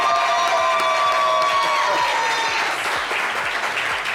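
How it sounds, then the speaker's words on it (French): Studio audience of a French talk show applauding and cheering to welcome guest Shilo Fils, loud and dense throughout, with sustained tones from music fading out in the first half. "Applaudissements pour Shilo Fils, s'il vous plaît."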